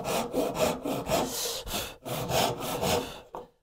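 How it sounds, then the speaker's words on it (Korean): A hand saw cutting wood at a 45-degree angle for a hidden dovetail joint, close and loud, with rapid rhythmic back-and-forth strokes of about eight passes before the sawing stops abruptly. "네, 이렇게 톱질을 하면 되고요."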